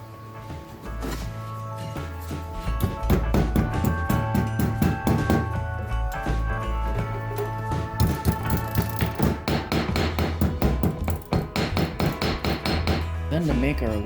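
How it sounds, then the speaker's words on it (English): Old coat hanger wire hammered on an anvil, a rapid series of loud ringing metallic strikes in close, uneven bursts that speed up toward the end. "Got a hammer and an anvil"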